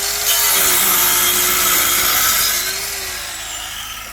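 A machine saw cuts through material at a construction site being prepared for a concrete pour, a loud continuous whine that fades slightly toward the end.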